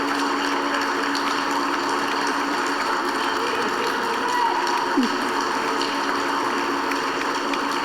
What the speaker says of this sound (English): a separate applause is needed for Vandana Upadhyay